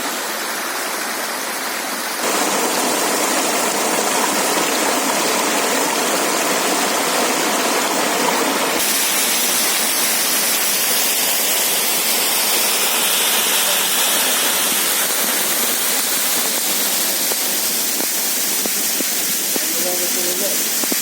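Waterfall and small river in spring at the 11-metre Lazny falls near Drohobych, Lviv region: a loud, steady rushing roar of falling water, heard up close and continuous, with a faint voice partly masked beneath it.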